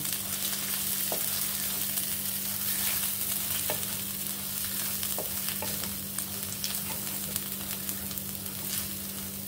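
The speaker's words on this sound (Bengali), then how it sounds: "এবার ভালো করে মিশিয়ে নেব" Spices for chicken kanti fry in a pan under a continuous soft hiss, with scattered scrapes and taps as they are stirred into the mixture; no one speaks.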